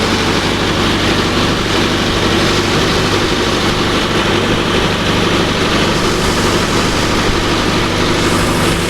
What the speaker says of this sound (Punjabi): ਇਹ ਚੱਲਦਾ ਆਪਣਾ ਟਰੈਕਟਰ ਪਹਿਲੇ ਮੀਡੀਅਮ 'ਚ